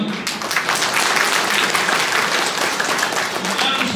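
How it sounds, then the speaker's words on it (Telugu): Audience applause at a caste association's 15th annual anniversary service program, a dense steady clapping from a large crowd that runs the whole stretch without letting up. "మీరు క్లాప్స్ ఎట్ట కొట్టకపోతే"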